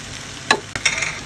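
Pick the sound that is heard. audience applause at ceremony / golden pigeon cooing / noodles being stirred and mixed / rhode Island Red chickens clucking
noodles being stirred and mixed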